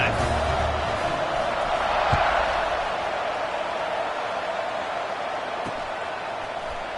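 Stadium crowd in the College Football 26 video game, Oregon visiting California, keeps up a steady broad roar of cheering for the whole stretch, holding at an even level beneath the play-by-play commentary.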